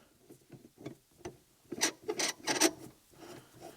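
A Billetworkz Fusion shift knob in candy red with a leather center is twisted onto a Volkswagen manual shifter, giving quiet, close scraping and rubbing turns in uneven short bursts that grow slightly louder toward the end.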